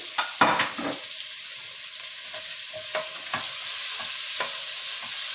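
Onions fry in shrimp juice in a pan, a loud, steady sizzle close up, broken by a few spoon taps and stirs.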